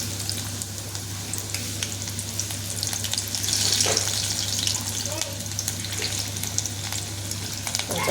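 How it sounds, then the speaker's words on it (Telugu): Green chillies and onion dropped into hot oil for tempering crackle with a loud, continuous sizzle that swells briefly midway, with a low steady hum underneath. "కొంచెం పచ్చిమిర్చి తాలింపు వేసుకున్న, ఉల్లిగడ్డ, పచ్చిమిర్చి."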